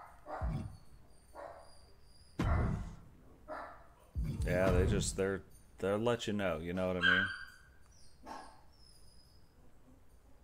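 Several dogs barking outside in short bursts, fairly loud and close, mixed in with someone talking over them.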